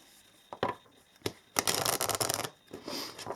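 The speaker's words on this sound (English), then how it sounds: "Okay, let's shuffle." Tarot cards being shuffled nearby: a few soft slaps, then a burst of riffling, then more quiet shuffling, with no voices.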